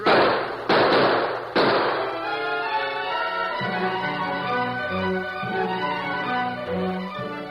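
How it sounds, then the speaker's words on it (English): Three sharp, loud gunshots crack in quick succession during a radio-drama Western shootout, followed by faint rattling and scattered soft thuds as the echoes fade. "We'll keep throwing lead at them. That'll keep them back. Now, come on, shoot through the open window."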